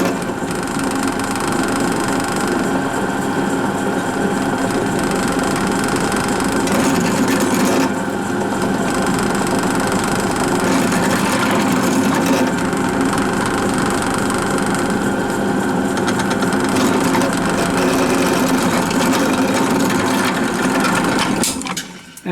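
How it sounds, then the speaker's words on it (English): A drill bores steadily through a metal engine part in a home workshop without machine tools, a continuous loud whirring grind that holds nearly unbroken before cutting off at the end. "And take this drill out."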